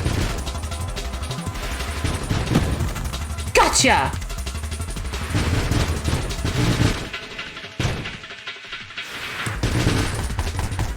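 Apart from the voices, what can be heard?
missiles firing and exploding in a video game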